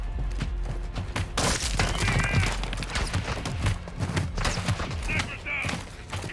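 Sniper rifle gunfire in the Call of Duty: Modern Warfare II campaign, sharp shots and bursts cutting through a dense battle mix with engine rumble, while voices shout over the action.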